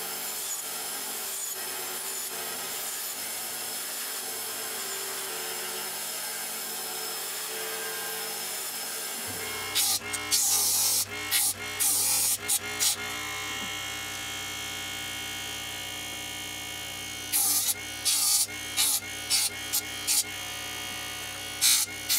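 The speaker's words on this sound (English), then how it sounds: "using templates and then finishing them with a bench sander" A bench sander finishing wooden internal blocks for a homemade positive pipe organ, a steady close whirring grind with repeated bursts of rasping contact as wood is pressed to the abrasive.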